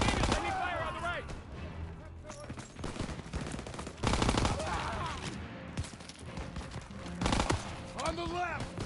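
Rapid enemy gunfire from a Call of Duty WW2 battle, with bursts of machine-gun and rifle shots crackling throughout, mixed with shouted voices and game music.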